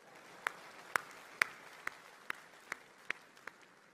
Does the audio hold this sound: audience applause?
yes